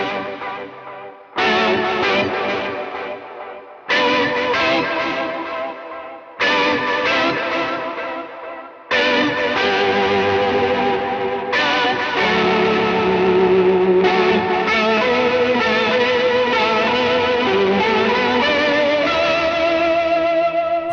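Sustained electric guitar chords through an octave pitch-shift effect into a thick, rock-organ-like tone with shimmer, delay and reverb echo, phrases separated by short gaps before a long continuous passage.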